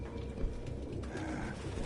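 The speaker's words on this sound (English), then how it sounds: "when he opens the door, a flock of pigeons just comes out of nowhere" A flock of pigeons cooing in the video game Detroit: Become Human, low soft murmuring coos over a dense rumbling bed, continuous and close with no talk.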